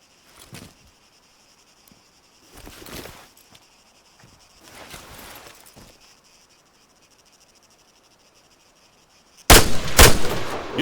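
Rifle fire from Arma 3 at a boot-camp range: a few faint, scattered reports with hissing tails, then a loud, close burst of rounds near the end, with no talking.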